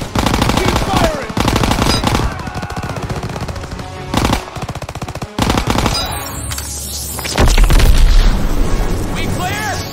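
World War II combat in Call of Duty WWII, with dense machine gun bursts and rattling gunfire punctuated by deep explosions, loud and continuous, while soldiers shout over the battle.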